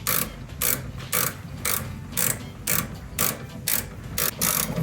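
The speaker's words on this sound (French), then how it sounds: "Si tu veux me serrer l'écrou s'il te plaît." A hand ratchet tightens a nut on a car, making about ten rhythmic bursts of close, crisp clicking with short pauses between strokes.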